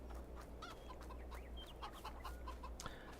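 Several chickens in Farming Simulator 22 cluck and murmur softly at a distance, scattered short calls over a low steady hum.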